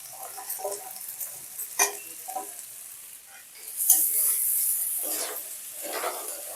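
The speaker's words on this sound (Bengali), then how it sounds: "এবার সাবুদানাটাকে এর মধ্যে দিয়ে দেবো" Soaked sago pearls tipped into a pan with cashews and raisins and stirred, giving scattered scraping stirs and a steady sizzle that swells midway and stays fairly close and moderate.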